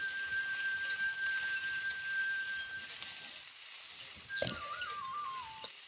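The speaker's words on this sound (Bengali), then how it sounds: "আলুটা একটু ভাজা ভাজা হওয়ার জন্য অপেক্ষা করব।" Potatoes fry in a pan with methi greens, a soft steady sizzling hiss close by, broken near the end by a brief clatter of a lid or utensil.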